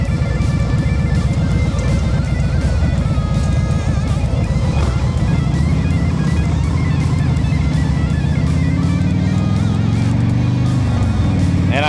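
A Harley-Davidson motorcycle with throttle-by-wire rumbles steadily while being ridden, a loud continuous engine drone with wind noise and a rising pitch toward the end.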